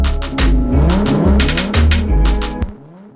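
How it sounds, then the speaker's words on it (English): A supercar engine effect with delay in a music track; loud repeating rev surges with gear-shift drops echo over one another in rhythmic pulses, then cut off abruptly. "That sound right there is just a supercar with a delay on it."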